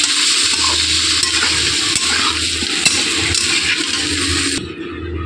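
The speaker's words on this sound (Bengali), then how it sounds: "নেড়ে চেড়ে এবার মিশিয়ে নেব ভালো করে।" A spoon stirs mustard and chili paste thinned with water in a pan for a green banana and prawn curry, giving a steady, close wet scraping and sloshing that carries on without pause.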